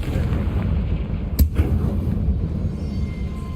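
Confringo spell blast in the Hogwarts Legacy video game, one sharp explosive burst landing mid-clip over a steady rumbling game background, fairly loud and close.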